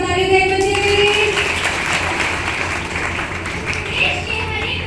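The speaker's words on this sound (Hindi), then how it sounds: "एक बार जोरदार ताली दें बच्चे के लिए।" An audience at an Independence Day celebration in an ashram claps in sustained, dense applause for a child, a steady wash of hand claps filling the room with faint voices underneath.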